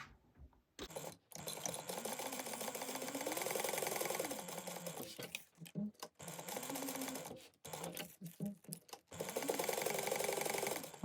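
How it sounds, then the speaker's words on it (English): A sewing machine stitches down the sides of a fabric sling backpack at close range in several loud, steady mechanical runs. Short pauses separate the runs, and the pitch rises and falls as the speed changes. "I'm going to sew down the sides at 1/8 of an inch."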